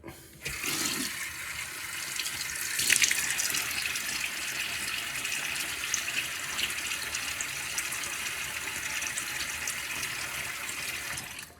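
Water runs steadily from a bathroom tap as a face is wetted before a shave, a loud continuous splashing hiss lasting about eleven seconds, with a short splash near the start and no talk.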